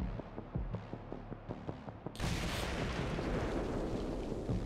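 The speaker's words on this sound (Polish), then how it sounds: "Jednym z nich jest użycie ładunku wybuchowego." Breaching charge blowing a door in the tactical game Breach & Clear: Deadline: a series of sharp, quick clicks and thuds, then a sudden loud blast that rolls into a sustained rumbling roar.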